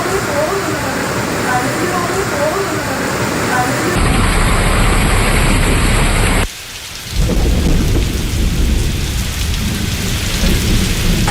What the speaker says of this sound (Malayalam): അതിശക്തമായ മഴയാണ് എറണാകുളം ജില്ലയുടെ കിഴക്കൻ മേഖലയിലും നഗരപ്രദേശത്തും പെയ്തത്.